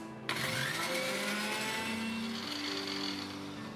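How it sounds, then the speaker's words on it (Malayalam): A mixer switches on at low speed to blend mayonnaise ingredients with salt, starting abruptly and then holding a steady, close whirring motor hum with slight shifts in pitch. "അപ്പോൾ നമ്മൾ ലോ സ്പീഡിൽ ഇട്ടിട്ടാണ് മിക്സ് ചെയ്യേണ്ടത്"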